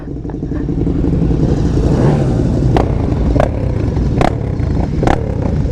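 KTM motorcycle fitted with a large, loud Austin Racing exhaust, heard at a busy group ride among many bikes, with steady engine rumble and clattering under crowd noise and several sharp bursts toward the end.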